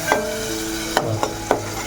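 A pan of ground coconut masala and whole masoor lentils sizzles steadily while a spoon scrapes and stirs, giving a few sharp, close clinks over the frying hiss.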